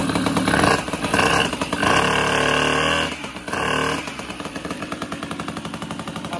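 A Morini M1 pacer fitted with a Polini engine, freshly rebuilt and running very rich, fires up close by with loud, choppy two-stroke revving, dipping and surging through several bursts before settling into a rapid, uneven idle.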